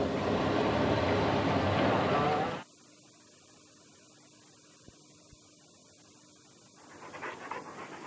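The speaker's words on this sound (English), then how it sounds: "The dog must be muzzled and tethered, sir." A dog panting in a 1983 BBC drama scene, quick rhythmic breaths up close for a couple of seconds, then a quiet room with a faint steady hum before noise rises again.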